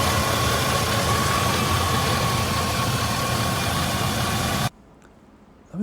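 A first-generation Range Rover P38's engine idles loudly and steadily close by with a constant low rumble and faint whine, then cuts off abruptly, leaving near silence.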